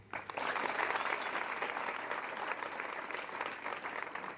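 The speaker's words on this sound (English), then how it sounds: "Please, let's clap for him." An audience claps steadily for several seconds, a dense, even applause that starts abruptly and holds without cheering.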